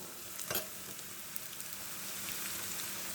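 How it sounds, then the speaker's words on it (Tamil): Ingredients for mutton chops fry in a pan on a stove, a continuous soft sizzle and crackle with occasional louder pops, heard alone and fairly quiet. "இந்த அளவுக்கு நல்லா வறுத்து எடுத்துக்கணுங்க"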